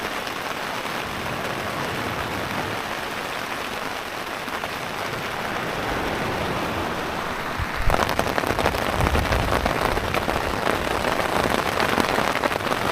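Steady heavy rain patters on a tent, growing louder and denser partway through, with no talking.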